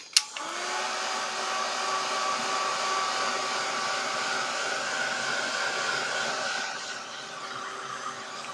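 A hair dryer blows steadily on freshly painted pieces, a close, continuous whooshing hum that starts abruptly and holds at even loudness before easing slightly near the end.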